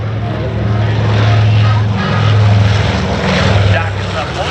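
The B-29 Superfortress 'Doc', a restored four-engine propeller bomber, drones past at an air show with a loud, throbbing, low propeller hum that swells and eases, while an announcer talks over it.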